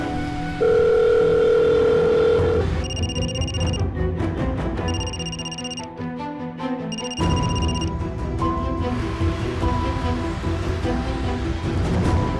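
A telephone rings unanswered in repeated bursts of steady electronic tones separated by short pauses, over a background of dramatic music with no talking.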